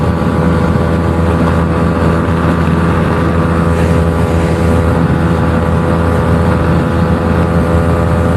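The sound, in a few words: Yamaha R15 motorcycle engine revving in drag race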